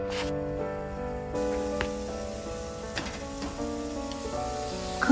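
Chicken drumsticks sear skin-side down in a dry, unoiled frying pan, giving a faint, thin sizzle with a few soft pops and clicks beneath a steady background hum; no voices.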